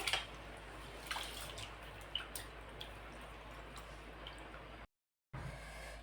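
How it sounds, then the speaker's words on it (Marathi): Water poured steadily into a bowl of washed ration rice, set to soak for anarse flour, with a faint, close liquid wash and a few soft drips, then a brief silent gap near the end. "यामध्ये भरपूर असं पाणी टाकायचं आहे"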